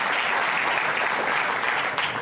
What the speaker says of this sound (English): And Stéphane is getting a round of applause in here in Jupiter.